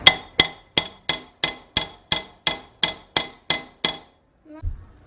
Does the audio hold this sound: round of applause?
no